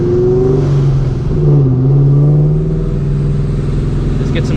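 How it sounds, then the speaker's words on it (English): Supercharged New Edge Mustang GT with long tube headers at wide open throttle, loud engine rising in pitch through a hard pull, dipping briefly at a shift then climbing again, heard from inside the car. "We're gonna go wide open throttle in my favorite spot."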